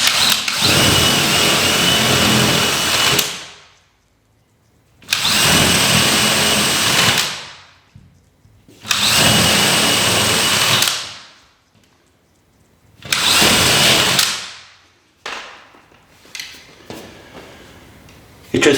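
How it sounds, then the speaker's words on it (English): A power drill with a 5/8-inch spade bit boring holes through drywall, four loud whirring bursts of a few seconds each separated by silences, followed by brief clatter and handling noise. "Now I'm going to drill 4 holes in the corner here. I got a little 5/8 spade drill."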